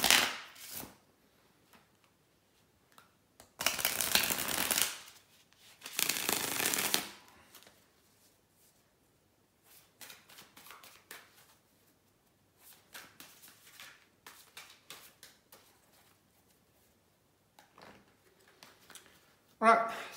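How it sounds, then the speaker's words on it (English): Tarot cards shuffled by hand in two loud, dense bursts early on, followed by softer intermittent riffles and taps, with a final short burst at the end; no talking. "just hold on a second, guys, to shuffle the cards"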